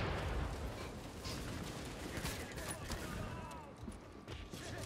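A grenade explodes in the shooter video game The Division, a loud, dense rumbling blast with gunfire-like crackle filling the whole stretch and slowly easing off.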